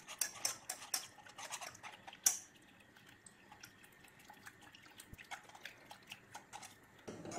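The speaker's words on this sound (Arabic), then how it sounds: "غنخلط هاد المكونات مع بعضياتهم مزيان" A spoon or whisk stirs crème fraîche, a little milk, a pinch of salt and pepper together in a bowl, making faint, quick clinks and light ticking taps at an irregular pace in a quiet kitchen.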